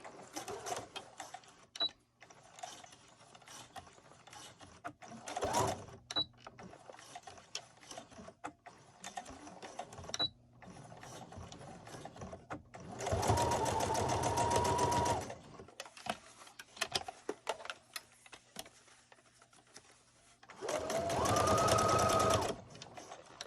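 Sewing machine back stitching along a seam of a 3D cloth face mask, with two loud sustained runs of the motor and several short bursts and clicks between them, close by and with no talk over it.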